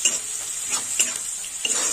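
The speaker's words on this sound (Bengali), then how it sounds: "এবার একটু পেঁয়াজটা ভালো করে ভেজে নেব।" Chopped onions fry in a pan spiced with bay leaves and dried chili, a steady sizzle broken by scrapes and clinks of a spatula stirring them, close and clear with no talking.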